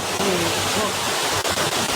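A natural rock waterfall in a city park rushes steadily and loudly nearby, a constant broad wash of falling water with faint background voices.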